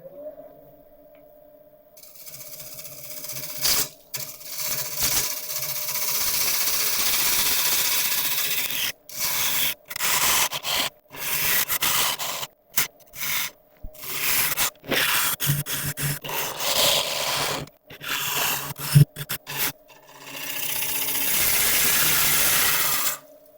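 Hollowing tool scraping into 50,000-year-old kauri wood spinning on a lathe, a continuous rough hiss broken by frequent short pauses as the cut starts and stops, close and fairly loud with no talking.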